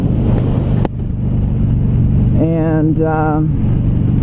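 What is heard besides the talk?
2016 Harley-Davidson Low Rider motorcycle riding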